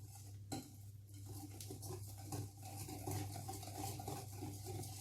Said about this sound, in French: Je mélange bien.